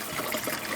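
Water flows through a pipe into a van's tank, a steady, close gushing trickle that continues without a break, with no voices.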